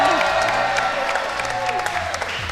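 Studio audience at a live French game-show podcast recording, applause and some cheering under overlapping talk and a sung or stretched vocal, short and busy.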